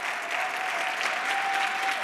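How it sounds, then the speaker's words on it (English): Steady, even applause from a conference audience at the close of Bloomberg CityLab 2024, a continuous wash of clapping at moderate distance with no voices standing out. "take a round of applause for all the hard work everybody put in to making this conference work"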